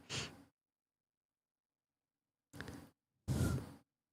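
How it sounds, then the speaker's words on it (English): Three breathy bursts of air hitting a microphone close up, an exhale at the start, then two more after a long silence, the last one loudest. "We hear you breathing."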